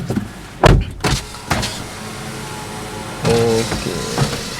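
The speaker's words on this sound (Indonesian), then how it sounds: "kita buka kacanya biar terang ya" A Honda BR-V 2022 Prestige power window whirs open, preceded by a few close clicks and thumps inside the cabin, then a steady electric motor hum for about a second.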